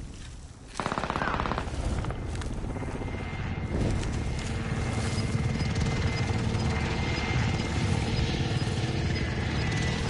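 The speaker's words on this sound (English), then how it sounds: "Enemy supply choppers above." Enemy supply helicopters fly overhead in a video game, a steady loud rotor drone mixed with bursts of machine-gun fire and other battle noise, with no voices heard.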